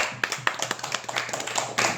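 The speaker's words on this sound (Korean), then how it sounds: "우리 옆에 분들에게 큰 박수를 보내면서 시작을 해보도록 하겠습니다" Scattered handclaps from a seminar audience at a smart-work training session, a ragged run of separate claps close by with no talking.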